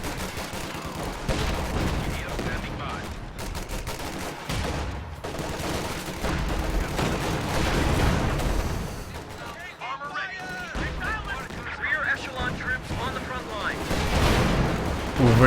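Howitzer artillery barrage in the Company of Heroes 2 video game, a dense run of booming impacts and gunfire rumbling continuously under a commentator's voice.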